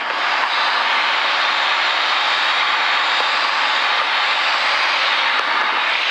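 Light aircraft on autopilot at 5,500 feet, its engine giving a steady, even drone heard from inside the cabin, constant and fairly loud with no voices.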